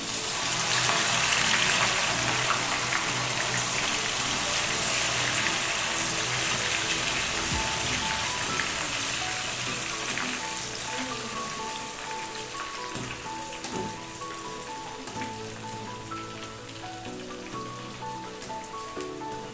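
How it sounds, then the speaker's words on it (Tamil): Green gram (moong dal) snack batter deep frying in hot oil, giving a steady, loud, rain-like crackling hiss that runs throughout and eases slightly toward the end. "இப்படி கொஞ்சம் கொஞ்சமாக இதில் போட்டுட்டு எண்ணெயில் ஃப்ரை பண்ணி எடுக்கலாம்."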